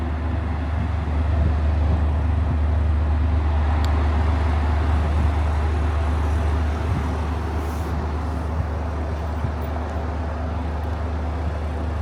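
Constant low engine rumble and droning vehicle noise as cars drive aboard a ferry from Estonia to Finland to be parked, a steady deep hum lasting throughout with no voices.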